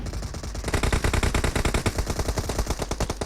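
Rapid automatic gunfire in the battle royale video game PUBG, a loud, dense burst of repeated shots rattling steadily from start to finish with no talking.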